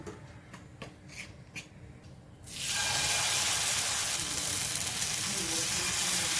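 Ghee poured onto a flour-free pancake in a hot pan bursts into a loud, sustained sizzle after a few quiet taps and clinks, then the frying hiss holds steady and close.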